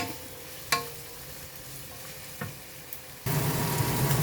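Coriander stems are stirred in a frying pan with a few scraping knocks, and then a loud, steady sizzle of frying bursts in near the end, close up with no voices.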